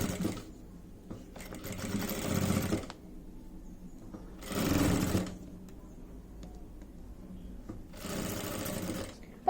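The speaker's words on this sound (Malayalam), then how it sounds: "അതും നമുക്ക് ഇങ്ങനെ ഒന്ന് സ്റ്റിച്ച് ചെയ്ത് ഫിനിഷ് ചെയ്യാം." A sewing machine stitches along folded cloth edges, running in three distinct bursts of rapid, close, mechanical chatter separated by quieter pauses. No voices are heard.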